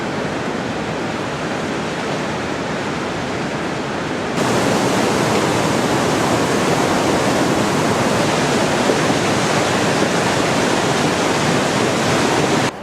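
A river rushes beneath an old bridge on the Everest Base Camp trek, a loud, steady roar of flowing water that swells noticeably partway through and then holds constant, with no voices.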